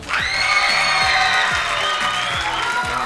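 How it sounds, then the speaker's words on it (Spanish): A studio audience at a Saturday variety show cheers, shouts and applauds loudly and steadily, a dense crowd roar filling the whole moment with no one speaking over it. "¡El aplauso para ellos!"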